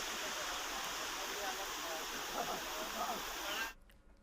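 Floodwater rushing over a washed-out culvert bridge in Jharkhand during heavy monsoon rain, a loud, steady broadband roar that cuts off abruptly near the end.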